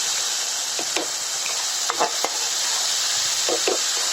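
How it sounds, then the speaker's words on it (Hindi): Tomato puree being stirred into fried onions in a pan gives a steady sizzle with a few scraping strokes of a spoon against the pan bottom, close and fairly loud. "अब हम इसमें अपनी टोमेटो प्यूरी डाल देते हैं। तो मैंने टोमेटो प्यूरी डाल ली है। अब आप इसे मिक्स करिए।"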